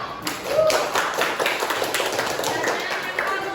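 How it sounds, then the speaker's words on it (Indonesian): Schoolchildren in a classroom clapping for a classmate, a short burst of scattered hand claps close by, with a voice briefly heard at the start. "Coba tepuk tangan buat Rejal."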